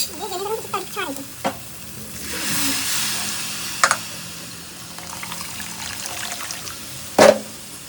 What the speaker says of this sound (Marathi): आता त्यामध्ये गरम पाणी टाकते